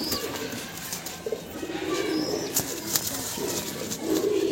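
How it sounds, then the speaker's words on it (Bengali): Roller pigeons coo in soft, repeated throaty calls, close by, with brief wing flutters and light rustling among them. "একদম সড়কবাজি পায়রা, টানা শীষের পায়রা, বেস্ট কোয়ালিটি পায়রা।"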